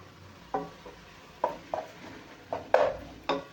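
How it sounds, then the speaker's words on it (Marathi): Grated carrots sautéing in ghee in a pan for carrot halwa, with a faint sizzle beneath several distinct clinks and scrapes of a spoon stirring against the pan at an irregular pace, with no voices. "याला छान आपल्याला तुपामध्ये चांगलं परतून घ्यायचं आहे"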